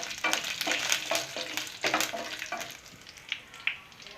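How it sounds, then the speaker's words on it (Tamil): Pallipalayam chicken fries in a pan with seeded dried red chillies, a steady crackling sizzle broken by repeated scraping stirs of the spoon, close and fairly loud with no voices. "நல்லா பொரியட்டும்."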